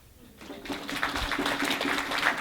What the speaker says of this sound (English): I think you should all give yourselves a big clap.